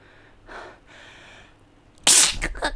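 One sharp, loud sneeze bursts out close by after a couple of soft breaths, trailing off in short breathy gasps.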